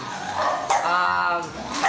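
Dog at a stud kennel gives a few close, yelping barks and whimpers, with soft speech underneath.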